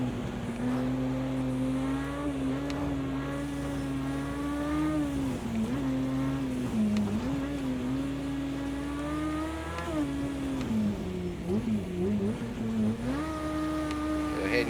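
An Aston Martin races on a dirt rally track in a racing game, its engine droning steadily and rising and falling in pitch as it revs through gear changes, loud and continuous throughout.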